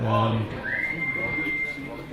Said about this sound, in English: The referee's blowing the whistle.